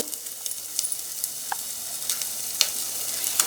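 Masala spices with tamarind pulp for a korramenu fish stew fry in a pan while being stirred, a soft hiss broken by scattered clicks and scrapes of the spoon.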